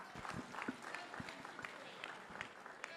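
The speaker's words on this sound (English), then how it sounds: "Give them a big round of applause about a great female." Crowd applause at an Angus cattle female sale in Fort Worth, Texas, a faint, scattered patter of clapping hands heard from a distance.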